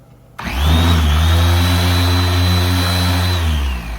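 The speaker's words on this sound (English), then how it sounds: "I got some little buffing tools on a little polisher that I bought." A small cordless polisher fitted with buffing tools, working on a 2024 BMW M4, spins up and holds a steady, close, loud motor whine with a droning hum underneath for about three seconds, then winds down.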